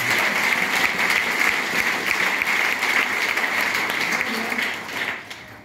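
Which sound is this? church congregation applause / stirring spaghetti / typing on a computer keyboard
church congregation applause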